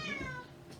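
A single short cat meow, close and clear, heard alone against quiet room background.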